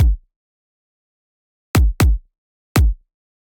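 Unprocessed kick drum sample from Splice, four dry, punchy thumps, one alone and then three in a short uneven burst, each decaying quickly into silence.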